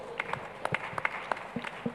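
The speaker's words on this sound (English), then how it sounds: "Give him a big round of applause." Scattered applause from an audience at an agricultural summit panel, a sparse handful of distinct claps at moderate distance, quiet and uneven rather than a full ovation.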